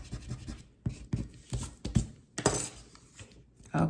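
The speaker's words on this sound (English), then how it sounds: "I'm going to erase my pencil marks." Pencil marks rubbed off a folded greeting card with an eraser, giving short close scratchy bursts in an uneven rhythm, with a few light taps and rustles of paper between strokes.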